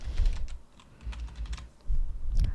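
Close, brisk typing on a computer keyboard as a user ID is entered on a Korean government website sign-up form: a steady run of key taps with a few louder strokes and short pauses, no talking.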